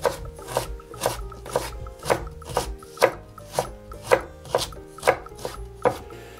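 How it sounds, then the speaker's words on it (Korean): Knife julienning 50 g of carrots into thin strips on a cutting board, a steady run of sharp, evenly spaced chops at close range with no talking. "당근은 50g을 준비해서 채쳐주세요"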